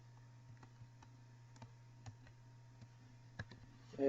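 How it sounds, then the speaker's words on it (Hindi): Typing on a computer keyboard in a quiet room: sparse, faint single key clicks at irregular intervals over a low steady hum. "शिफ्ट 8 दबाने से कीबोर्ड उर्दू हो जाता है"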